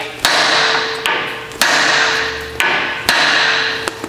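Heavy metallic hammer blows strike a brake cone washer on a 100 Series Land Cruiser's front brakes at a steady pace, about eight sharp strikes each followed by a bright, lingering ring, close and loud with no talking.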